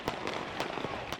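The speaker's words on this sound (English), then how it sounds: "A barrage of gunshots," Gunshots in Ferguson, several sharp cracks in quick succession heard at a distance, faint and brief over background noise.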